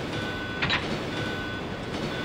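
Inside a train in the video game Resident Evil 2, a steady low mechanical rumble runs throughout, with a brief clatter near the start.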